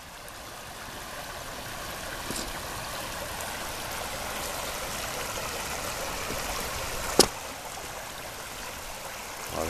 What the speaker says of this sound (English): You hear the waterfall across the lake, it's so calm.